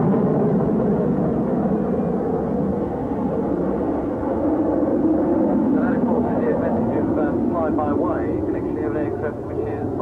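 Fighter jet at an air show, flying slowly nose-high at about 120 knots, a steady loud broadband engine roar throughout with a commentator talking over it over a public address.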